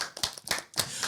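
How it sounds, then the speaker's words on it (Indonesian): A short burst of clapping from a few people, loud and close, with uneven sharp claps filling the moment. "Tepuk tangan semuanya."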